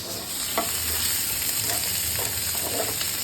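Onion and garlic fry together in a pan, making a steady close-up sizzle broken by a few short scraping stirs throughout.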